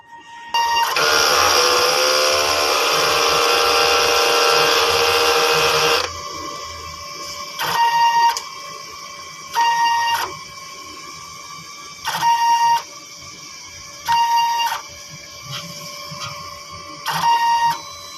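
A direct-to-film (DTF) printer runs a head-cleaning cycle, whirring loudly and steadily for several seconds, then settling into quieter intermittent mechanical bursts, each with a short electronic tone, repeating at regular intervals.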